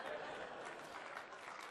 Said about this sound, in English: That does deserve applause.